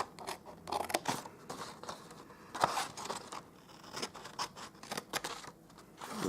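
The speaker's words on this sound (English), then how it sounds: "now we're going to cut this section off. And cut that section right off." Scissors snipping through cardstock in a papercraft gift box project, a series of close, crisp crunching cuts in quick irregular rhythm, quiet and alone.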